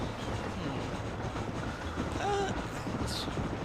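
Steam-era train running in the Red Dead Redemption video game, a steady low rumble and rhythmic rolling clatter throughout, with a brief whistle-like tone near the end.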